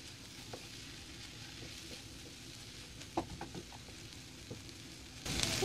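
Samosa filling of potatoes, green coriander, green chillies and masala being fried in a pan, a quiet even sizzle with occasional light stirring taps.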